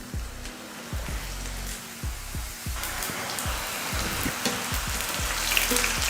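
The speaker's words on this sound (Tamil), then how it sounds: "இப்போ எடுத்து எண்ணெயில் பொரிச்சுக்கலாம்." Diwali snacks fry in hot oil, a close, continuous bubbling sizzle with repeated crackling spurts that swell as pieces go into the pan.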